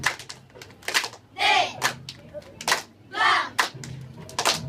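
A group of children and adults at a 2015 children's competition performs the Pandeglang clapping chant, with sharp rhythmic hand claps in uneven bursts and loud chanted voices swelling between them.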